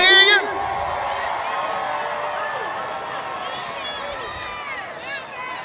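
A crowd at Virginia Motor Speedway's 2024 opening night cheers with scattered whoops and shouts over a continuous, fairly close murmur, after a brief louder burst at the start.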